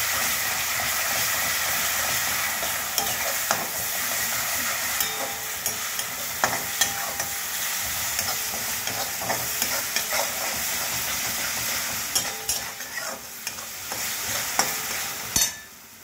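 Garlic paste frying on low heat in a pan, a steady loud sizzle and hiss running throughout with frequent close scrapes and taps of a stirring utensil; no voices.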